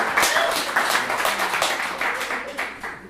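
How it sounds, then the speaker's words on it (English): Audience at a live improv comedy show claps in a brief burst of applause, irregular hand claps spread over about three seconds, fairly close and steady with no talk over it. "Give him a big round of applause."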